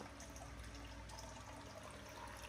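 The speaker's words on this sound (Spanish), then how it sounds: "Vemos cómo baja el agua de volada." Water from a Linkbits FA016 automatic water dispenser runs into a glass in a steady, continuous rushing stream. It sounds close, with no talking.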